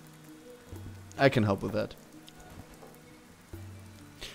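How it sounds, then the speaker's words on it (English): Rain falls steadily in the video game Dead in Vinland, a soft continuous patter running under a brief spoken line and low game music. "It hasn't stopped raining since we arrived here."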